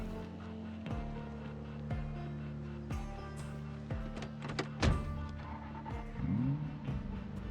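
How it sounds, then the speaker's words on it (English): A car in the Project Zomboid video game drives with a steady, droning engine hum, broken by regular dull thunks about once a second and a brief rise in pitch near the end. "Let's get the car over and into the parking lot."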